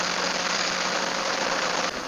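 A steady engine drone with a broad, noisy roar, continuous and close, like riding with the motor running.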